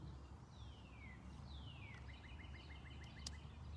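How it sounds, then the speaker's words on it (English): Birds chirp faintly outdoors on an open sports field during a yoga session, with a couple of descending calls and a quick run of short repeated chirps over steady background hum. "Sounds of the birds surrounding you."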